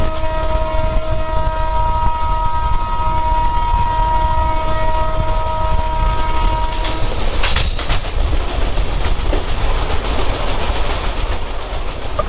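A 24-coach locomotive-hauled express passenger train in Assam rumbles along steadily with a continuous roar, a sustained multi-tone horn sounding over it for several seconds before fading into rattling wheel noise.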